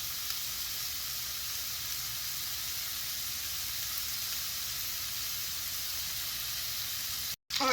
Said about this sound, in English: we've got these bacon cooking here for a few minutes. And it's just starting to get brown